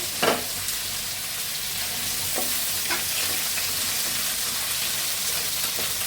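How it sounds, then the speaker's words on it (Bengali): Potatoes sizzling in oil left over from frying fish, a dense steady hiss with a few scattered clinks of a spatula, close and continuous. "আলুটা ভাজা হলে আমি দিয়ে দিব"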